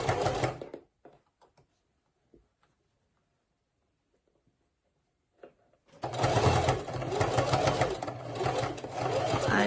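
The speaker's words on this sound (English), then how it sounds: "And then you're just going to continue on straight stitching." A sewing machine straight-stitches along the edge of a fabric face mask. There is a short burst at the start, a quiet pause, then a loud, steady, fast mechanical whir of stitching until the end.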